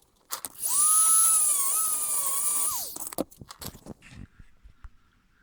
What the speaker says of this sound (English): I'm going to use the Dremel to cut a groove right there